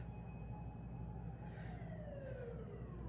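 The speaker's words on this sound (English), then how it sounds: "There's an ambulance or a police siren going off." A wailing emergency siren, ambulance or police, sounds outside at a distance, its tone sweeping and gliding over a steady low background rumble with no voices present.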